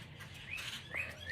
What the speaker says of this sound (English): There's thousands of birds all over the place here.